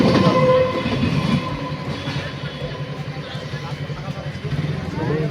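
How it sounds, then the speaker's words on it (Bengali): Sealdah local passenger train running past a closed level crossing gate, a loud, steady rumble of wheels on rails with a horn sounding, close by, with a voice talking over it. "যাচ্ছে একটা শিয়ালদা লোকাল"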